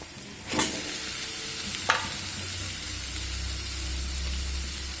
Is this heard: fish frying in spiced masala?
yes